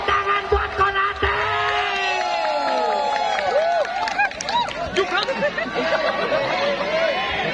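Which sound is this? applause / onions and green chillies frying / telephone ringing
applause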